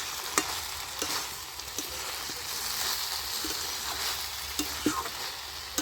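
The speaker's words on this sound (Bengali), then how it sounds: "চচ্চড়িটা ঠিক ভাজা ভাজা হবে।" Drumstick flower chorchori with poppy seeds stir-frying without water: a continuous dense sizzle close up, with regular light taps and scrapes of a spoon stirring the pan throughout.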